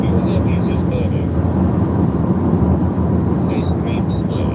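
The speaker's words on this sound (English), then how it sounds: "Mike, the van is louder than the TTS, I can't hear myself think." A van engine roars loudly and continuously from inside the vehicle, a dense steady rumble with brief higher tones near the start and end.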